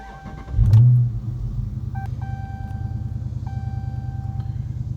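A stock automatic Dodge car pulls away with a brief low engine surge, then settles into a steady close rumble with a faint chime sounding inside the cabin.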